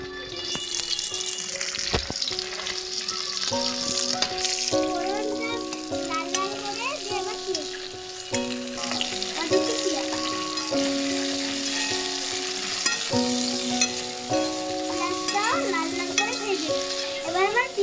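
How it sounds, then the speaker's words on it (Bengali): Whole spices tempering in hot oil in a home kitchen give a steady, close sizzle that runs throughout beneath louder background music. "এবার দিচ্ছি ফোড়ন।"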